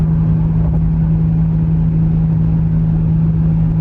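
A steady, loud drone fills the cabin of a fifth-generation Toyota 4Runner cruising at highway speed above 3,000 RPM, a constant low engine hum layered with road and wind rumble, no talking.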